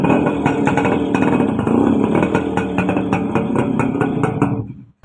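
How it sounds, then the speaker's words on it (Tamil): A Suzuki Max100 two-stroke motorcycle modified to resemble a Yamaha RX100 idles and revs close by, giving a loud, steady, throbbing engine beat with rhythmic pulses throughout, which cuts off abruptly at the end. There is no talking. "இந்த வண்டியோட பீட்டை நீங்கள் முதல் கேட்டுவாங்க."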